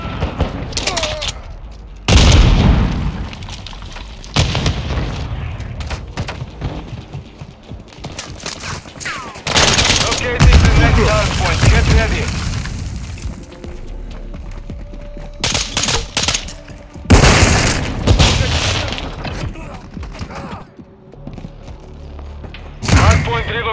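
Game combat in Call of Duty Modern Warfare 2 Hardpoint on the Shoot House map: repeated loud bursts of gunfire and booming explosions come in waves, with voiced callouts between and under the blasts.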